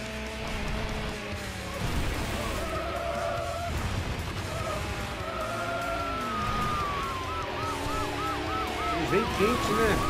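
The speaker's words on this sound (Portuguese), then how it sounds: "Mais um carro da polícia." A police car siren in the racing game Need for Speed Hot Pursuit II wails and warbles over constant engine roar, rising more clearly toward the end amid game effects and some talk.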